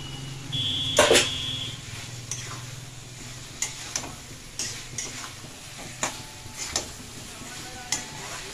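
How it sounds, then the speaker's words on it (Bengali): Cauliflower sautéed and stirred in a pan with spices, a steady low sizzle broken by repeated spatula scrapes and clinks against the pan, close and clear, with a brief louder clatter near the start. "কপিটাকে আবার ভালো করে কষাবো"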